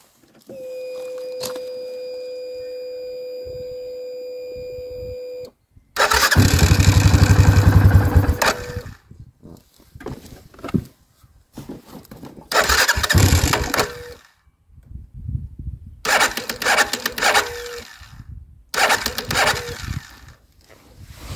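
A quad bike on a weak battery cranks with a whirring starter in several separate bursts, loud and close, after a steady electronic tone at the start, with no talk.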